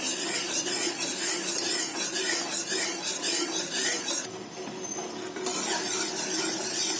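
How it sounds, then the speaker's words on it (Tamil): Milk-based white sauce whisked steadily in a pan for macaroni cheese, a continuous scraping, stirring rasp with faint sizzle throughout, briefly softer midway before resuming at close range. "இந்த மாதிரி விஸ்கில் மிக்ஸ் பண்ணிகிட்டே இருக்கணும்."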